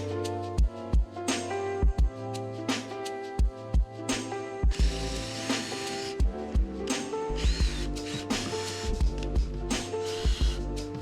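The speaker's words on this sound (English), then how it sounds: "This helps with drilling the holes and installing the rivets" Power tools and riveting on a C8 Corvette side skirt from ACS Composites: a string of sharp, close mechanical bursts and clicks from a drill and rivet tool, repeated in short bouts with a steady hum in the gaps.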